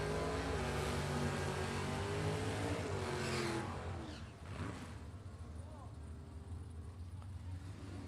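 A 1968 Camaro and a 1966 Mustang funny car rumble loudly at an NHRA Hot Rod Heritage drag race, a steady roaring engine drone that dips briefly midway then continues, with a commentator talking over it.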